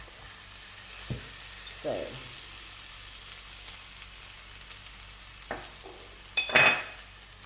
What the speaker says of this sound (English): and you keep stirring